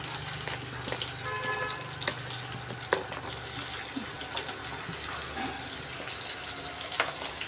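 Onions with cloves and cinnamon fry in hot oil, a continuous close sizzle dotted with small pops and stirring clicks, no one talking.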